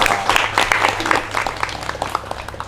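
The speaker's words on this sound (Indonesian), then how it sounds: "Tepuk tangan untuk Ketua Sanur Bersatu kita." An outdoor gathering of Sanur youth claps for the Sanur Bersatu chairman, a short burst of scattered, close hand claps over a low background hum with faint voices.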